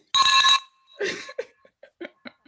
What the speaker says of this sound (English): That's a little victory bell.